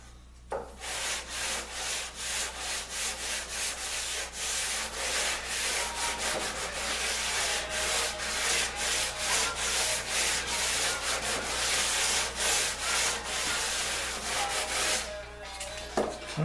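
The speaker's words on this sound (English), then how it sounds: "I just keep going through the grits here. I can even sand the end of this in this position." Sanding a wooden pub table with a power sander, moving through the grits, a close continuous rasping rub that swells and dips in steady strokes with no talking.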